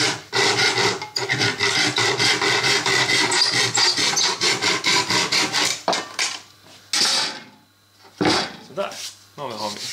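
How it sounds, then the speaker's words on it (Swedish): A fine-toothed tenon saw cuts a piece of wood veneer in quick, rhythmic rasping strokes up close, then slows to a few separate final strokes as the cut finishes. "Och sen sågar man med en fogsvans med små tänder."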